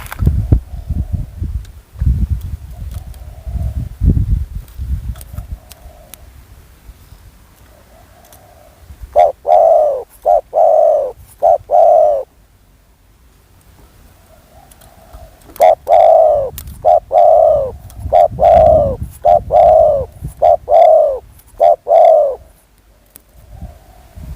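A decoy dove (nok khao yai) coos in rhythmic bursts of repeated rounded notes, close and loud, with pauses between phrases and rustling, handling noise underneath.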